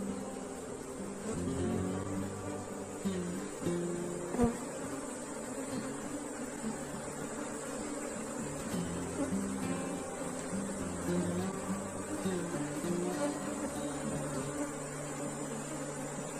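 A small leftover honeybee swarm being worked in a hive, a dense, close buzzing of many bees with individual wingbeats weaving in and out, steady throughout with one sharp knock partway through.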